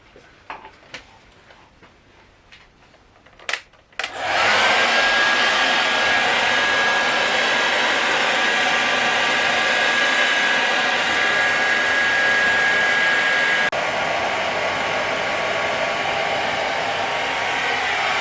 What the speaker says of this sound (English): I'm going to boost it with some hairdryer action.